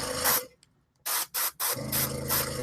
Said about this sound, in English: I'm just going to spray this guy.